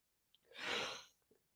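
A single sneeze from a person with a cold: a brief sharp intake, then a close, breathy burst that swells and fades within about a second, followed by faint small sounds.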